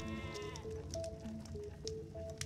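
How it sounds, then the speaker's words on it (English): Long wool sheep in the video game Stonehearth ACE bleat in a quick series of short, tonal calls over a low game background, several overlapping nearby. "Long wool sheep is enjoying a little bit of that"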